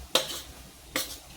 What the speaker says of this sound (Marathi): थोडं थोडं टाकून असं हलवीत राहायचं.